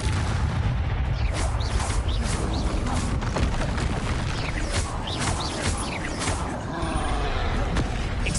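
Spell combat in Hogwarts Legacy: Expelliarmus and Protego casts crack and boom in dense, continuous bursts under a loud, busy game mix with a voice shouting.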